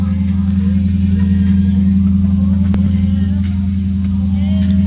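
2011 Lexus IS F V8 idling high after a cold start, a loud steady rumble with a faint click partway through, no clear revving.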